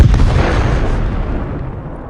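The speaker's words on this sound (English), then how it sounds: "One of the Bradleys then fires a tow missile." A Bradley fighting vehicle fires a TOW missile in combat, a loud, close deep boom at the start that rolls into a long rumbling decay, with no voices.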